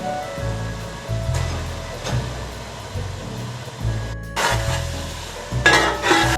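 Fenugreek seeds are stirred into roasted masala in a pan for khichdi, with low scraping strokes, a soft sizzle underneath and a couple of brief louder hissing bursts near the end. No talking.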